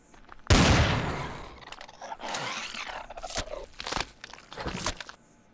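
Gunfire from a gun in the space survival game Empyrion, a loud opening blast followed by a string of sharp, irregular shots and crunching impacts that fade out near the end.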